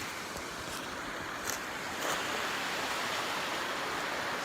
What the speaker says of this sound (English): Carrigain Brook is over there. I'm sure you can hear it.